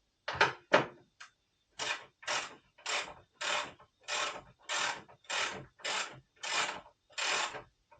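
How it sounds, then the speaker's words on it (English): Bolts coming off a 2012 Can-Am Spyder RT SE5, a run of about ten evenly spaced rasping ratchet bursts, each roughly half a second long, close and clear with short silences between, after a few quicker clicks at the start. "now it's time to take off the bolts on the Spyder itself"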